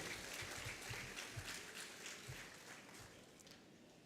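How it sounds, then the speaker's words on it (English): Audience applause at a convocation ceremony, a steady wash of clapping from a large crowd throughout, fairly quiet and continuous with no talk. "Can I have a big round of applause for that powerful energy which we have it here?"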